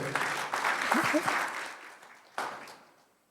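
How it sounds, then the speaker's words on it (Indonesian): A church congregation claps together during a Sunday service, fairly close and full at first, then thinning and dying away, with a voice and a brief thump near the end. "Yang tepuk tangan yang ngerti betul."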